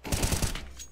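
Rapid gunfire in Counter-Strike, a quick burst of about five shots in under half a second, then fading tail.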